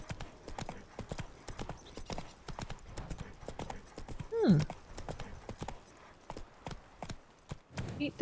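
Roach the horse gallops through a town in The Witcher 3: Blood and Wine, hooves clip-clopping in a brisk continuous rhythm, close and clear, with a brief whinny-like sweep midway.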